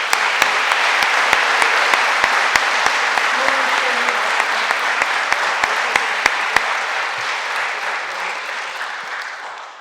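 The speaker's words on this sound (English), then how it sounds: "Let's give him a round of applause." Sustained applause from an audience at a college athletic hall of fame induction ceremony, steady and dense for about seven seconds before thinning and tapering off, with a few sharp claps standing out.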